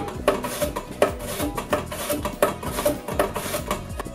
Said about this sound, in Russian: берем кастрюльку, в нее натираем наш кабачок